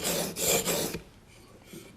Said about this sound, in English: So on the flat of the knife, right in front of the handle, I can start a 21 degree bevel.